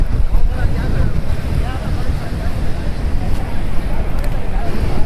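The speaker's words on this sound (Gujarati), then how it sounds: "પવન બહુ જ આવે મને ઉડાડીને લઈ જાય દરિયામાં" Strong wind by the sea roars steadily and loudly into a microphone near a boat on the water, with wave noise beneath and a person talking over it.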